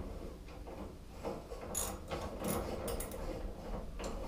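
Bolts on a race car being snugged down with a ratchet, giving irregular clicking and ratcheting bursts with faint metallic clinks at close range, alone without talk.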